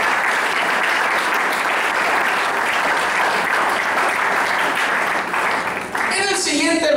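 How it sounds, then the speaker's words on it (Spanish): A congregation at a church service breaks into loud, sustained applause as an offering to God, many hands clapping densely and evenly for several seconds before a voice cuts in near the end. "Ofrenda de aplausos al Señor."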